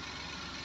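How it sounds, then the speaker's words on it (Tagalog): The engine of a Suzuki Every Wagon 4WD automatic van idles in a brief, steady low hum recorded close by. "Yan din yung makina niya, guys."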